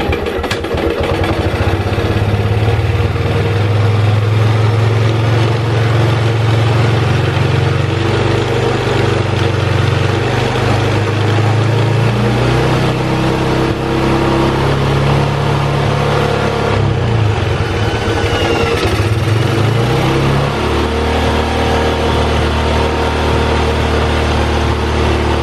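A motorcycle engine running steadily close by, a continuous low idle that rises and shifts in pitch as the throttle is opened and eased back, with no voices over it.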